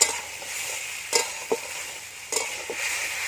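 Cauliflower and other vegetables frying with spices, a steady close sizzle broken by a few sharp scrapes and knocks of a spatula against the pan.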